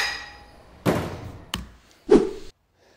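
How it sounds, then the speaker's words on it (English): Three heavy copper hammer blows on a Ducati 750 Super Sport crankshaft, spaced unevenly with a ringing decay after each, close and loud in an otherwise quiet space. "that, is, of course, is done with a heavy copper hammer and some blows in the right place"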